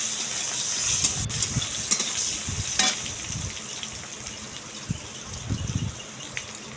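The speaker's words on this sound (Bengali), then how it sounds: "তো পেঁয়াজটা আমি ভালো করে লাল লাল করে ভেজে নেব।" Chopped onion frying in a pan until reddish-brown for a pointed gourd dish: a loud, continuous sizzle with occasional spatula scrapes and stirring knocks.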